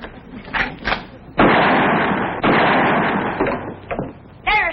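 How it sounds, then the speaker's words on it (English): Two gunshots fired at a telephone wire outdoors, each a loud sharp crack with a trailing decay about a second apart, set among brief voice-like sounds before and a short sound at the end. "It took you 2 shots to get that wire."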